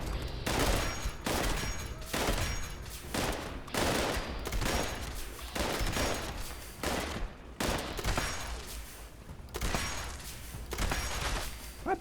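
Explosive ballistic weapons firing in Fallout 76, repeated bursts of rapid gunfire with explosive impacts in a steady rhythm of volleys separated by short pauses, fairly loud and without talk.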